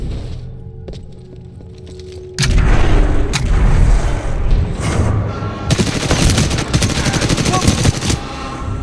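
Rapid automatic gunfire and heavy booms from hip-fired weapons in the video game Titanfall 2, starting abruptly after a quieter stretch and continuing as loud, dense bursts with a few sharp shots.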